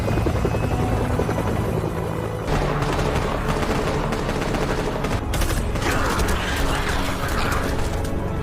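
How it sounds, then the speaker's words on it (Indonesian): Film scene of a helicopter firing on zombies: heavy rotor drone under dense, continuous rapid gunfire and mechanical clatter, loud and unbroken throughout. "tiba-tiba muncul helikopter yang langsung menembaki zombie-zombie tersebut"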